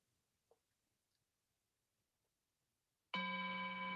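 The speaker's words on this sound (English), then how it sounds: "Waiting for our bell." A meditation bell rings once near the end of an online sangha gathering, striking suddenly after near-silence and sustaining a clear, steady, layered tone.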